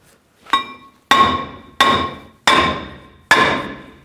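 Five hard hammer blows strike a rear brake rotor on a Ford E-250 van to loosen it, each a sharp close metallic clang that rings out briefly, spaced roughly every half to one second.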